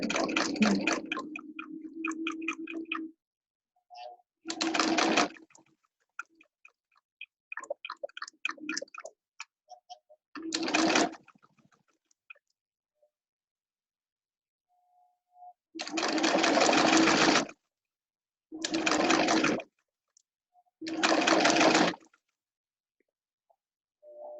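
A sewing machine stitching fabric for a scrub cap runs in several separate bursts of steady mechanical whirring, each a second or two long, with quiet gaps and faint small clicks of handling between them.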